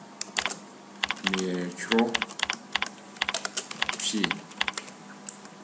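Rapid, irregular clicking of keys on a computer keyboard while text is typed, close and fairly clear, with a voice speaking briefly in a couple of spots between the bursts of keystrokes.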